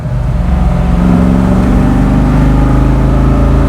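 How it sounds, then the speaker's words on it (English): A 1969 Ford Mustang fastback restomod with a 347 stroker small-block V8 and five-speed, heard from inside while driving: a loud, steady engine roar that builds slightly as it pulls, with no talk. "That's the one thing about a small block Ford that is hard to beat, is the sound."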